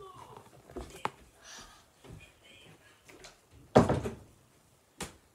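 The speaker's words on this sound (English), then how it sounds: "I'm going to shut my door." A bedroom door shut once inside a house, landing as a sharp mid-clip thud with a second softer knock just after, amid quiet room noise.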